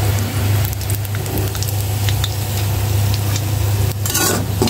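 Onions fry in hot oil in a pan, giving a steady, loud sizzle with a constant low hum beneath and a few brief scraping stirs near the end.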